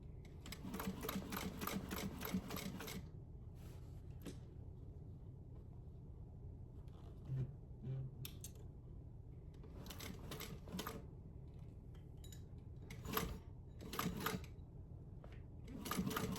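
A sewing machine back-stitches over a charm handle in quiet, intermittent clattering bursts, with pauses of low rumble between the runs.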